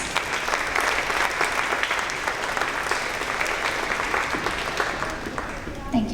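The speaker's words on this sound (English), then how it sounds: "Let's give these girls a round of applause." An audience applauds a girls' dance team at a third grade promotion ceremony, with loud, sustained clapping throughout and voices mixed into the crowd noise.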